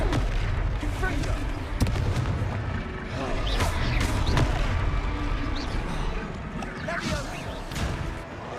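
Confringo fire spell blasts in Hogwarts Legacy, erupting as repeated loud bursts and booms amid dense combat noise, with voices under the action.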